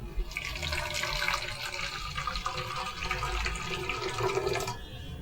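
Water pouring steadily into a jar for several seconds, splashing and gurgling up close, then stopping near the end.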